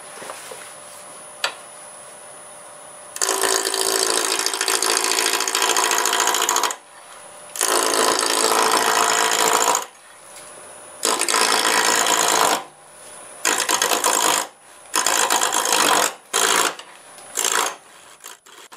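A wood lathe spins at about 900 RPM while a gouge roughs down a wooden blank for inside-out turning. Loud, rasping cutting noise comes in repeated bursts of varying length over a faint steady motor hum.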